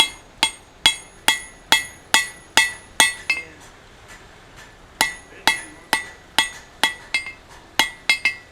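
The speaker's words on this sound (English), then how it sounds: "when I'm hammering on the tip there, so my hammer doesn't run into the anvil" Steady, ringing hammer blows strike hot steel on an anvil while a taper is drawn out, about a dozen and a half sharp metallic clangs in an even rhythm, with a short pause midway before the hammering resumes.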